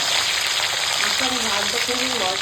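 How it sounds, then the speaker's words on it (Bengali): Fish frying in hot oil gives a loud, continuous close sizzle and crackle, with faint tonal sounds in the background. "মাছটা এরকম ভাজা হয়ে গেছে হালকা করে সেরকম তুলে নেবে"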